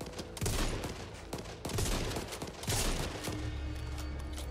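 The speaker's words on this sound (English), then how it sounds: "I'm using a pistol." Rapid bursts of gunfire in the video game Back 4 Blood, loud and dense, crackling nonstop with sharp repeated shots over a low rumbling game background, no voices.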